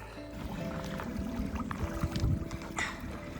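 A packraft paddle dips and pulls through a calm lake, soft splashes and water swishes up close over light wind rumble and a faint steady tone.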